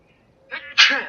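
A single man's sneeze, a short intake followed by a loud burst, close to the microphone with no other sound around it.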